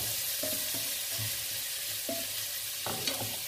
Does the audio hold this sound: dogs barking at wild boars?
no